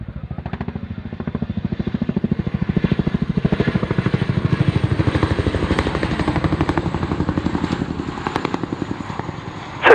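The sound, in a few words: Chinook helicopter landing at airshow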